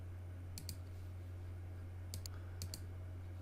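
A computer mouse's left button clicks in three quick paired clicks, crisp and close over a steady low electrical hum in a quiet room.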